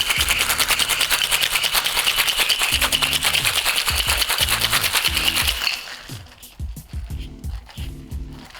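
Ice rattles inside a cocktail shaker in a fast, steady, loud rhythm for about six seconds, then stops, leaving a few quieter knocks and low sounds.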